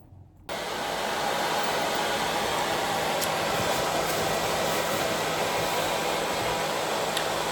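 A hair dryer hood runs steadily over dreadlocks being dried after dyeing, a loud continuous whooshing hum with an even airflow hiss, switching on abruptly at the start and holding constant throughout.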